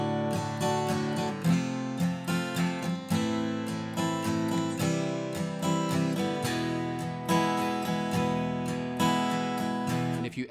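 An acoustic guitar plays a basic strumming pattern with an added eighth-note strum on the third beat, giving a steady, full-bodied rhythm of chords close up with no talking.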